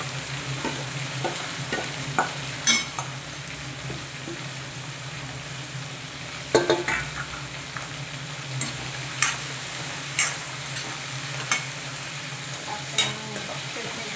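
Curry leaves, onions and ridge gourd fry in a pan, giving a steady close sizzle with occasional sharp pops and spatters throughout and no talking.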